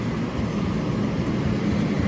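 A DRS Class 66 diesel locomotive, number 66430, hauls a car freight train through Rugby station, a steady, loud rumble of engine and rolling wagons passing close by.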